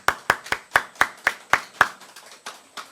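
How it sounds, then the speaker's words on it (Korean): A church congregation at a Sunday service claps in unison: about eight sharp, evenly spaced claps at a quick steady beat, close and distinct, then trailing off into softer scattered claps. "박수 한번 쳐보겠습니다."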